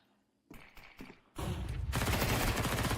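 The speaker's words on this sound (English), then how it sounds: "Good flashbang, good push with it." Counter-Strike 2 match action: after near silence, a quick run of gunshots is followed by a loud burst and then a sustained bright roar, consistent with a flashbang going off amid gunfire.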